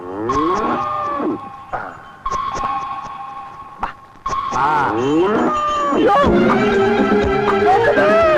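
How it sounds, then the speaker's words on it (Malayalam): A cow moos loudly and repeatedly in a Malayalam comedy film scene. Several long, drawn-out lows come one after another with brief gaps, growing fuller and more sustained toward the end, close and prominent. "പശു"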